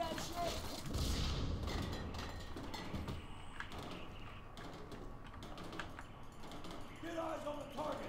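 An explosive weapon firing in the video game F.E.A.R. 3, heard as heavy booming blasts and rattling bursts mixed into busy game action while a person talks over it.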